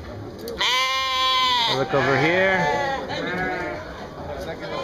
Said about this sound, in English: This whole street just has sheep.